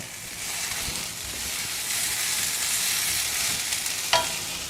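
Mint and tomato for chutney sautéing in a hot pan give a steady, close frying sizzle throughout, with one brief scrape or clink near the end and no talking.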